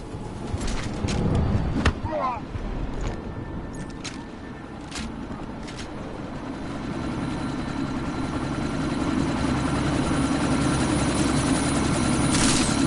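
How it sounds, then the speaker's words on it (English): A video game helicopter about to take off, its engine and rotor droning steadily loud and growing stronger, with sharp thuds and clanks of action early on and a voice speaking over it. "That chopper's about to take off!"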